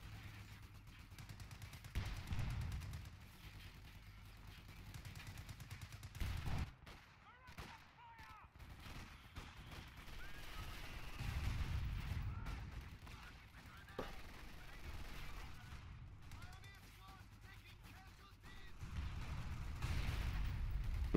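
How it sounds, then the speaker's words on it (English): Mortar fire in a WWII video game battle around Caen and Bayeux, launched from a mortar pit: faint booms and gunfire in recurring low rumbling bursts, distant and muffled, with quieter stretches between. "mortar fire going in from a mortar pit over here"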